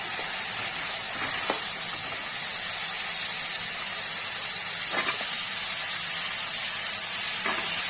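Potato and onion sauté in hot oil in a pan for a Tamil potato fry, a loud, continuous hissing sizzle with occasional soft scraping of a spatula, and no voices.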